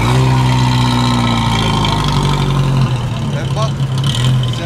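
A classic car engine at the Rock&Cars show, a modest six-horsepower unit, runs with a steady low drone and a slight rise in revs. People talk throughout over the engine.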